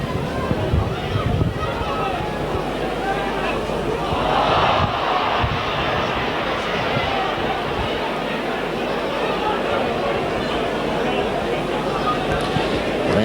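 A rugby league crowd at a Leeds versus Swinton match reacts to a scrum feed with a loud, sustained roar and jeering that rises and falls across the stadium, a commentator's voice talking over it.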